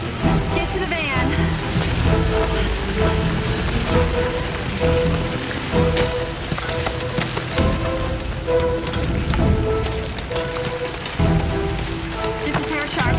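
Hail pelts a city in a movie scene, dense clattering over dramatic music and voices, loud and continuous throughout.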